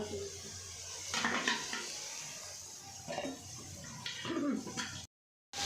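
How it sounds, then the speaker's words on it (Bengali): Capsicum frying in a pan with carrots for mixed fried rice, heard as a steady, moderately close hiss under clinks and scrapes of a utensil against the pan, with a brief dropout near the end. "ক্যাপসিকাম ভাজা হচ্ছে"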